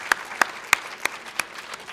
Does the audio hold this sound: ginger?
no